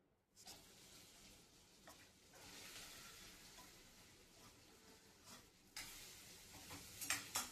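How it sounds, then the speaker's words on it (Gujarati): Steady sizzling and crackling of gunda (glueberry) fruit tempering in hot oil, with occasional stirring and light clinks of a pan, close by and continuous. "પેલા આપણે આ ગુંદા વઘારશું."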